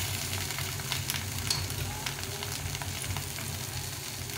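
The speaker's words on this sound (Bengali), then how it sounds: "বেগুনটা দিয়ে আবার এরকম করে ভেজে নেব। ভালো করে নেড়ে নেড়ে" Eggplant pieces fry in a pan with spices and no added water, giving a steady close sizzle with scattered crackles and occasional stirring.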